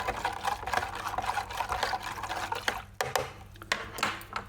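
A mixture of white vinegar and table salt gets stirred in a container, giving soft, close liquid swishes and sloshes with light scraping knocks, all fairly quiet.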